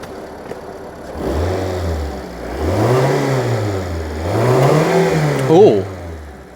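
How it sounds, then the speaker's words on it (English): A car engine is blipped and revved in repeated rising-and-falling surges, a throaty mid-pitched roar heard close by, with a voice briefly audible near the end. "Give it a blip, Don, give it a blip."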